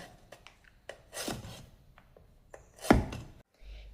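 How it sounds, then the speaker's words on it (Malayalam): A knife cuts vegetables very finely for drying, with irregular crisp chops and scraping strokes on a board, close and fairly quiet, with no voices. "ഇതുപോലത്തെ തീരെ നൈസായിട്ട് വേണം അരിഞ്ഞെടുക്കാൻ"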